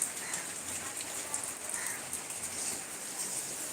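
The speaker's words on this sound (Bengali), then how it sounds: "বাইরে বৃষ্টি হচ্ছে" Rain falling outdoors, a soft, steady patter heard from a short distance, faint and even throughout with no voices.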